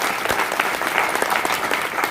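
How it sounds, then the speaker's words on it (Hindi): An audience at a Kabir satsang gathering in Gauri Chak, Patna, claps steadily throughout, a dense, even wash of applause from a nearby crowd with no voices on top. "उनके लिए एक बार ताली बजाकर धन्यवाद दे देंगे आप सब"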